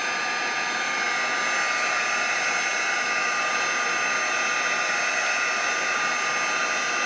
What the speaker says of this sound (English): let me go ahead and zap it with the heat gun because I want to keep going